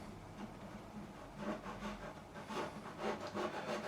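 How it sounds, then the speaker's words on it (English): A thin tool scraping old glue out of a fret slot on a Fender Stratocaster neck during a refret, close dry rhythmic scratching strokes that grow louder toward the end. "We're going to go in, I'm going to remove the glue."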